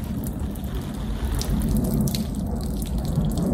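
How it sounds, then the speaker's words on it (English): Water from a watering can patters onto a tray of azalea cuttings, a dense, fairly loud, close spray of drops with no speech. "So with your watering can, you need to water it in."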